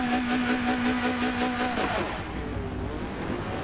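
Race car engines in the Forza racing game at Suzuka's West circuit, a loud sustained engine note that holds steady, then falls away into a rougher, lower drone as the cars pull off, with no voices.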